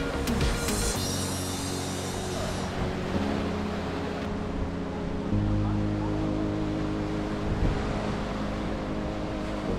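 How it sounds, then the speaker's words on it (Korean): Sea waves crash against the rocky shore of the Homi Peninsula coastal trail near Homigot, Pohang, where the path is laid with natural stones. A continuous, dense roar of surf runs steadily throughout, with a low rumbling undertone. "파도가 심하게 치는데"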